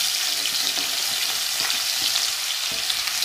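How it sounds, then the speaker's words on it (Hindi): Chopped garlic and onion with cumin crackle in hot oil for a quick paneer curry, making a dense, even, close frying hiss with light stirring ticks throughout and no speech. "और ये लहसुन प्याज में डाल देती हूँ इसमें।"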